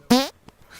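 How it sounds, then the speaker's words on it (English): A single loud, buzzing fart lasting about a fifth of a second, rising slightly in pitch, followed by faint scattered background noise. "I'm about to fart."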